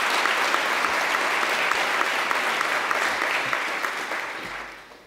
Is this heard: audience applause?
yes